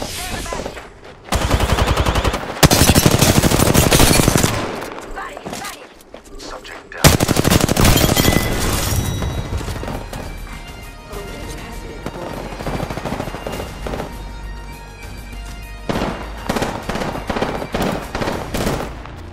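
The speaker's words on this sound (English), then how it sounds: "Being shot at." Bursts of rapid automatic gunfire in Apex Legends, loud and close, come in several long volleys broken by short pauses, then give way to lighter, sporadic shots with game sounds beneath.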